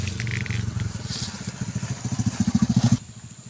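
A motorcycle engine puttering past beside a rice field, a rough pulsing chug that swells louder toward the end and then cuts off abruptly, with faint background noise.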